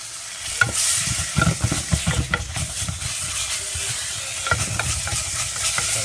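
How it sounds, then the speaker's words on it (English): Garlic and other ingredients for khao poon, a vermicelli curry noodle soup, sautéed and stirred in a pan: steady close sizzling with repeated scraping stir strokes, no talk. "I'm just gonna saute it in there"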